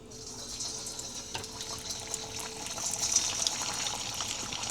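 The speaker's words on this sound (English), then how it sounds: "I'm going to fry the aloo tikki." Aloo tikki potato patties frying in heated oil, a soft continuous sizzle with faint crackles throughout, fairly quiet and close.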